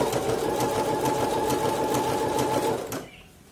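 Sewing machine stitching fabric for a skirt, a close, loud, rapid mechanical whir with steady rhythmic ticking that runs continuously and then stops abruptly, leaving quiet.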